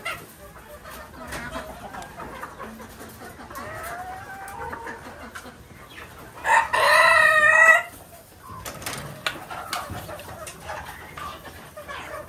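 Chickens cluck softly in the background at a poultry coop, then a rooster crows loudly for about a second midway, followed by more scattered clucking and rustling.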